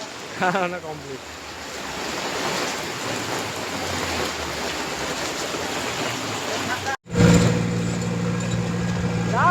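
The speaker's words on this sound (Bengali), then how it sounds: "বৃষ্টি হচ্ছে" Steady rain pours down in a dense, constant hiss, with a voice heard briefly at the start and a sudden cut before the downpour continues alongside a low hum.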